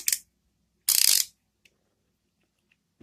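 A ratcheting joint on a Playmates Classic Voltron toy being moved, two short bursts of crisp, close clicking separated by silence, followed by a few faint taps.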